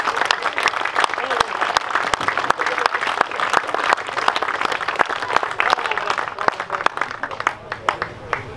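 Crowd applause and cheering for a prize winner at a fishing match final at Hayfield Lakes, dense steady clapping throughout with voices mixed in.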